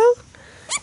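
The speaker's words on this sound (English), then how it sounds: "Appa here is a little jungle dog." Young bush dog, a small jungle dog at an Amazon rescue in Ecuador, giving a brief high whimper, then a short faint squeak, close by with little background noise.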